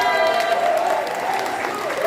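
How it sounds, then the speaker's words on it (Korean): Audience applause at a Korean political talk show, a broad wash of clapping under a loud voice speaking over it throughout. "큰 박수 부탁드립니다"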